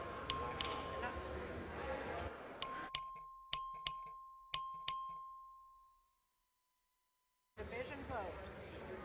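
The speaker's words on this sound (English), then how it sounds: "The clerk will ring the bell." A bell rung by the clerk in a state legislative chamber to call a division vote: a brief flurry of clear dings, then a run of about six evenly spaced bright strikes that ring out and decay into quiet, with murmuring voices before and after.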